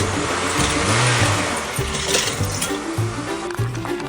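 Race car engine starting up and running, a mid-pitched motor revving in uneven bursts with rhythmic pulses, close and fairly loud with no talk over it.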